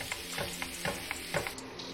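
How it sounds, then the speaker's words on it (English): Beef hamburger for a chopped cheese frying in butter in a pan: a soft sizzle under rhythmic scraping and chopping strokes, close and fairly quiet, with no voices. "Now that the beef is cooking"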